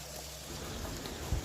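Fenugreek seeds frying in hot oil, a steady soft crackling sizzle that runs evenly throughout with no voices.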